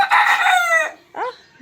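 A rooster on a farm gives one loud, close crow that trails off, then a short rough call follows after a brief pause.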